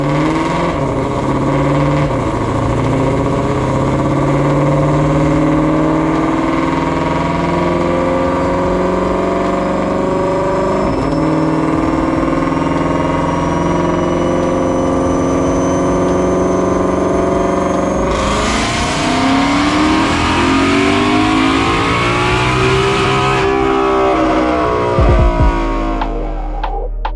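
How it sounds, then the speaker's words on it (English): A loud supercharged 2020 Ford Mustang Shelby GT500 engine with long tube headers revs hard on a dyno, its pitch climbing steadily for many seconds before dropping off, then briefly surging again near the end. "Let's go ahead and watch that dyno pull right"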